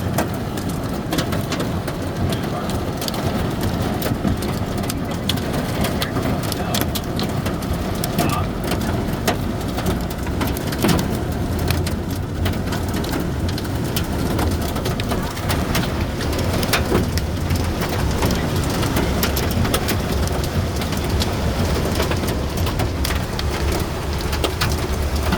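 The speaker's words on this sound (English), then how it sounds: "Now it's hailing, I can hear it." Hail and heavy rain battering a car during a thunderstorm, a loud dense unbroken roar of pelting impacts and sharp ticks throughout.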